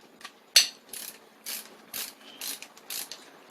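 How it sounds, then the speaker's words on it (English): A Snap-on adapter that converts a breaker bar into a large ratchet clicks in a series of short, crisp pawl ratcheting bursts, close and fairly quiet, repeating roughly every half second. "This is made by Snap-on. It actually turns a breaker bar into a big ass ratchet."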